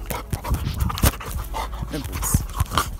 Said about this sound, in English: my dog is just bugging Empress.